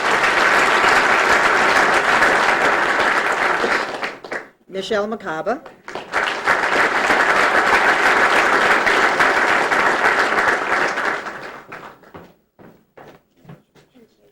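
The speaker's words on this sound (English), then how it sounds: "So maybe a little applause for her in absentia." An audience applauds at a 1995 National Honor Society ceremony: a long, loud, dense burst of clapping, a short break where a voice speaks, then a second sustained round that thins into scattered claps.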